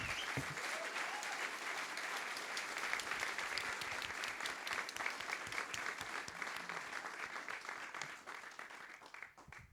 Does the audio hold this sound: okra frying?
no